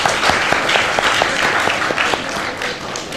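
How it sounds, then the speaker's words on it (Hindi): A television studio audience on a Pakistani morning show breaks into applause, with crisp individual claps standing out close by against a broader wash of clapping that tapers off gradually. "तो मैं आपके लिए तालियां बजाना चाहूंगी।"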